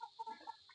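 A White Kilso street breed chicken gives a few short, soft clucks, faint and brief.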